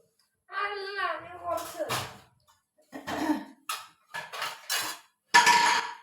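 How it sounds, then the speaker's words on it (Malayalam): Dishes, pots and cutlery clatter in a home kitchen as they are washed, with sharp metallic knocks and scrapes in short bursts scattered among spoken voices. "ഇവിടെ ഒരു തീന്ന് പാത്രം കഴുകുന്നുണ്ട് മനഃപൂർവ്വം സൗണ്ട് ഉണ്ടാക്കും"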